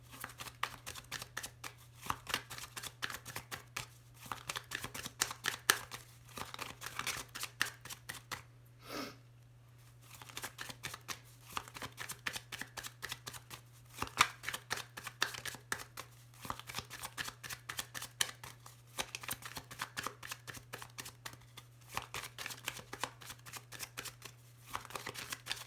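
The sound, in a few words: shuffling Lenormand oracle cards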